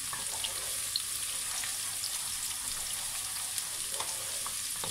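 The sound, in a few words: onion and garlic frying in a pan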